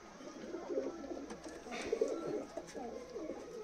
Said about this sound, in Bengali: এই হচ্ছে কবুতর, এই যে ঘুরে আসছে লং থেকে, দেখতে পাচ্ছ